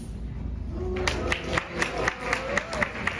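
An audience at a World Voice Day concert and talk breaks into brief applause, heard as a short run of evenly spaced, fairly close claps over a murmuring room.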